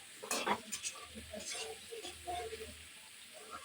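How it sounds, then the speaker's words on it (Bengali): Onions frying in a pan on a home stove and being stirred: a soft, steady sizzle with scraping stir strokes, quiet and close, with a brief louder clatter near the start. "পেঁয়াজটা কিছুক্ষণ ভেজে নিতে হবে।"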